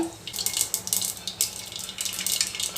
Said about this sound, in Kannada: ಎಣ್ಣೆ ಕಾದಿದೆ ಈಗ ಸಾಸಿವೆ ಎಲ್ಲ ಚೆನ್ನಾಗಿ ಚಟ್ಪಟ ಅಂತ ಇದೆ